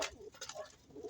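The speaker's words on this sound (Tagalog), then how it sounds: "Ayan po ang ibon natin na si Blue Nog." A pigeon gives a soft, low coo with a few short pulsing notes, faint and close, with no talking over it.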